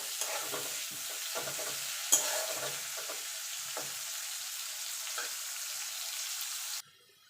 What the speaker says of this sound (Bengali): এবার পেঁয়াজটাকে একটু লাল লাল করে ভেজে নেব।